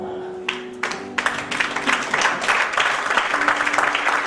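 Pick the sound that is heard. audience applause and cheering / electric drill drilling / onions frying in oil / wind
audience applause and cheering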